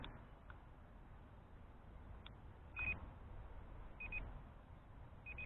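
Short high electronic beeps from an SJRC Z5 GPS foldable drone recording video sound in small clusters over a steady low hum, repeating every second or so.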